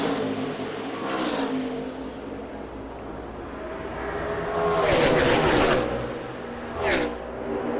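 NASCAR stock cars roar through a restart at the 2009 Budweiser Shootout, engines swelling loudly as packs accelerate and sweep past in waves, with a final car screaming by near the end.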